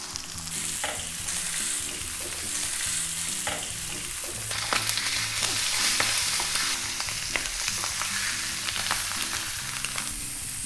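Pork belly frying fat side down in an oiled pan for Korean samgyeopsal, a steady loud sizzle and crackle with occasional pops, continuous and close, with no voices.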